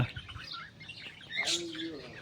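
Parrots and sparrows chirp and tweet in short, bright bursts, a busy chorus of calls at moderate distance, with a faint murmur of voices underneath.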